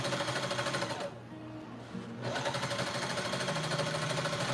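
A sewing machine stitching a doll leg runs steadily with a rapid mechanical rattle. It pauses briefly partway through, then resumes.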